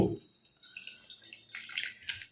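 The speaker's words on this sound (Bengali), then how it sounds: "আমরা বোলের মধ্যে ঢেলে আপনাদেরকে দেখাচ্ছি" Fish curry pours from a pot into a bowl, a brief wet sloshing and dripping trickle, close and soft, with a light clink at the start.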